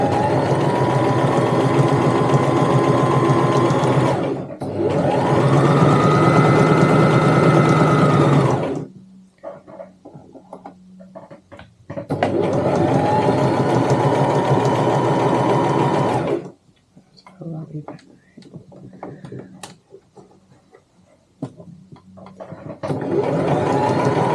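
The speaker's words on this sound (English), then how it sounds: "sew back down the other side" A sewing machine stitches a tote bag seam in two long loud runs, each ending abruptly, with quieter pauses between them filled with faint handling noise, and a third run starting at the end.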